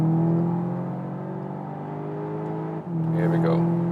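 A Volkswagen Arteon R GT with 320 hp and AWD accelerating from 2nd gear, a steady droning engine hum that dips and then surges again, with a brief higher whoosh near the end.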